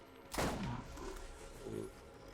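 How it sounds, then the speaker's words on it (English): A single gunshot in the video game Borderlands, loud and close with a sharp burst and a short decaying tail, then quieter game sounds continue. "There's a headshot."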